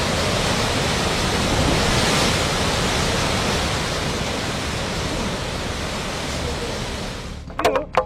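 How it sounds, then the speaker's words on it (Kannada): The Cauvery river in flood after continuous heavy rain in Kodagu rushes with a loud, dense, unbroken roar of water. A few sharp knocks sound right at the end. "ನಿರಂತರ ಮಳೆಗೆ ಕಾವೇರಿ ನದಿ ಕೆರಳಿದೆ"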